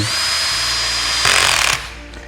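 Cordless screwdriver driving screws into modules, a short high whirring motor burst that rises into a louder buzzing drive as the screw seats, then stops abruptly.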